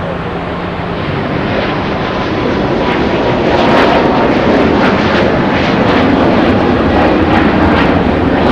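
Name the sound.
EVA Air Boeing 777 departing, GE90 jet engines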